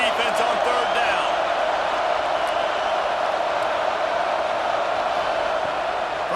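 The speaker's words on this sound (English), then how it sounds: "Decibels rising as the crowd gets behind this defense on third down." Steady, loud roar of a packed stadium crowd rising behind the home defense on a third-down play in a college football game, a dense continuous wash with faint whoops and an announcer's voice woven through it.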